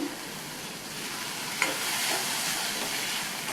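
Chopped cucumber cooking in a covered pan on a stove at medium flame, a quiet steady sizzle and hiss with one faint tap partway through, no talking.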